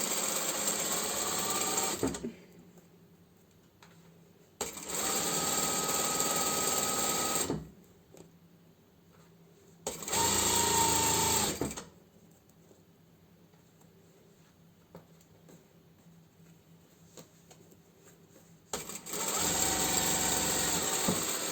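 A domestic sewing machine stitches a French seam on an elasticated skirt, running in four steady bursts of a few seconds each with quiet pauses between, loud and close, no talking.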